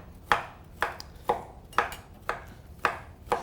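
A knife chops bacon on a cutting board in a steady rhythm of seven crisp, evenly spaced strokes, close up with no talking.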